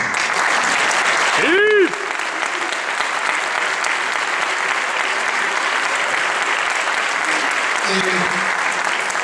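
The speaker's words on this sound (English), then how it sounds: "So can I get those students that participated this weekend to stand up and get a round of applause" A school winter concert audience claps for honor band students as they stand. The steady, loud applause runs throughout, with a brief high electronic tone near the start and a faint tone near the end.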